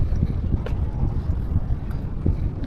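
Strong coastal wind at a port waterfront buffets the microphone in a constant low roar with gusty rumbling bursts, close and loud, with no talking.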